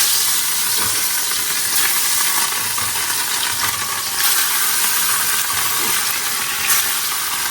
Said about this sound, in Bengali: এখানে 4 পিস শোল মাছ আছে, এই শোল মাছগুলো ভাজবো।